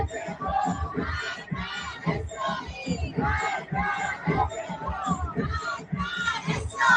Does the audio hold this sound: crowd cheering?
yes